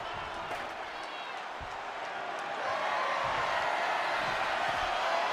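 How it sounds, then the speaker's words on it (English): Constant loud crowd roar from an arena audience in the WWE 2K24 wrestling video game during a Roman Reigns versus The Rock ambulance match, swelling louder midway with scattered thuds and faint commentary beneath. "when you can't hear yourself think because the crowd's so loud"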